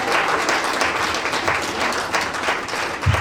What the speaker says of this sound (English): Let's give one big round of applause for all the coaches that ever coached at Michigan